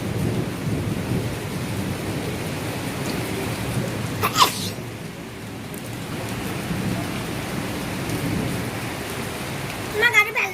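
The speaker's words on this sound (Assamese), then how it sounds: "আচলতে এতিয়া বৰষুণ আহিছে" Heavy rain falls steadily during a windy storm, a dense close hiss broken by a sharp crack of thunder partway through.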